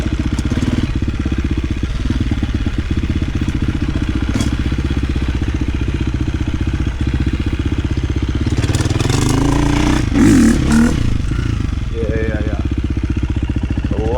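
A KTM 350 dirt bike, repaired after a flame-out fault, runs loud and close while ridden, its engine droning steadily and then revving up and down near the end, with a rider talking briefly over it.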